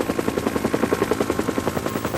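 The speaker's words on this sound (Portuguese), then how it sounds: "Um helicóptero militar adaptado para dar o primeiro combate ao fogo" Military helicopter adapted for forest firefighting, its rotor chopping in a fast, steady, loud thump close by, with no talk over it.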